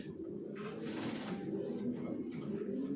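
Racer pigeons cooing softly at close range, a low murmuring coo with a brief rustle of wings, fairly quiet and steady.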